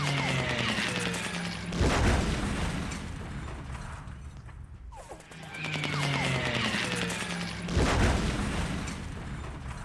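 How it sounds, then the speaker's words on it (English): Bombing in the War in the East strategy game: two rounds of rumbling explosive impacts with crackling debris, each swelling and fading, the second repeating the first, moderately loud with no voices. "Here we go, getting bombed again."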